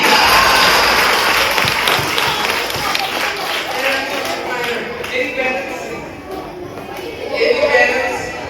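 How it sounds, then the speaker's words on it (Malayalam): A crowd applauds at a spoken English class event, a broad wash of clapping that fills the room, loud and sustained with some voices mixed in. "ഒരു കൈയടി"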